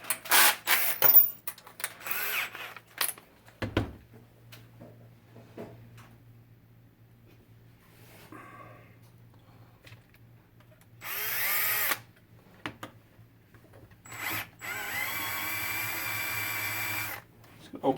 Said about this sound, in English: Just be using a 3/16 drill bit.